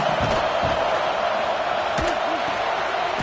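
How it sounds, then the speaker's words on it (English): Stadium crowd noise from the college football video game Elite Dynasty, a dense, loud, constant roar with scattered shouts and whoops rising out of it. "This crowd trying to make life miserable for this offense."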